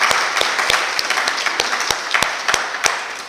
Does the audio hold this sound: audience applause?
yes